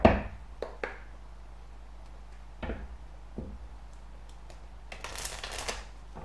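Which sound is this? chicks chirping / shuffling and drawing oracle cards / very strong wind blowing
shuffling and drawing oracle cards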